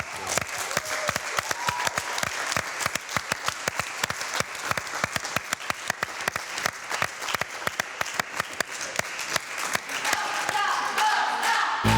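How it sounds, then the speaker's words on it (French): Audience applause at a pop group casting event for a televised documentary, a steady dense wave of clapping from a crowd that holds throughout, with faint cheers, then breaks off abruptly at the end. "Je pense qu'on peut les applaudir."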